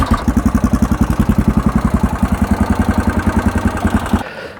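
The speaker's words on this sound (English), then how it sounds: "I'm going to leave it running now because we're going to change the oil, so I want to get it warmed up" A Yamaha XTZ660 3YF single-cylinder motorcycle engine idles close by while warming up before an oil change, a loud, regular thumping pulse that holds steady for several seconds and then cuts off abruptly.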